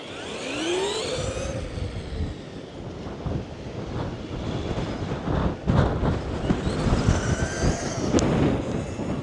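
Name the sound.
wind blowing against microphone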